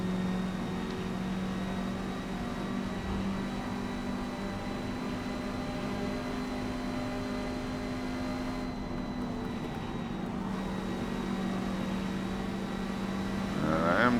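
A Porsche 550 Spyder races at Spa in Forza Motorsport, its engine droning steadily with a sustained tone that shifts slightly under braking, then rises in a rev toward the end.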